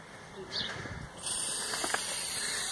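Short hissing bursts of an aerosol spray paint can covering graffiti, first a brief puff, then a longer sustained spray with faint rattling in the background.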